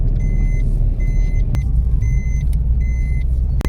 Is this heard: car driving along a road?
yes